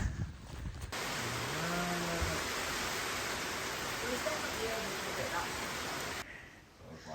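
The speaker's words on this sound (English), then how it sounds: "Hooray, hooray, hooray for rain." Steady, even rain patters on a farm setting, a dense wash of noise that holds nearly unbroken for several seconds before cutting away, with faint traces of a voice or animal beneath it.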